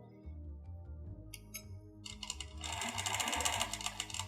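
A sewing machine stitches straight across quilt fabric loaded on an SR-2 quilting frame, starting quiet and then running into a loud, steady mechanical whir with no talking.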